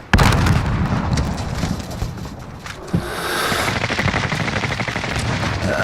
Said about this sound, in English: Then they're shooting at my teammate and shit.